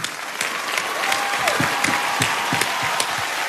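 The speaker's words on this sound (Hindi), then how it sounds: "लचोदर भैया के लिए जोरदार तालियां।" Loud, dense applause from a crowd cheering for Lachodar after a dance performance, steady throughout with a few sharper claps standing out.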